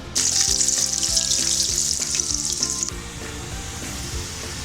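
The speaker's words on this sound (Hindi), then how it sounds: "ये जो मेरे पास प्याज हैं इसको मैं हल्का सा फ्राई कर लेती हूँ" Steady, loud sizzling of onions frying in ghee in a pan, a continuous hiss with faint clinks, easing slightly partway through.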